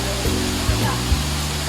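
Kanto Lampo Waterfall in the jungle of Bali's Gianyar region roars as a loud, constant rush of falling water, heard close with a low hum beneath and no clear speech.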